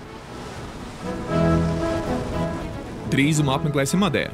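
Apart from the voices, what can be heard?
ocean waves around a sailing boat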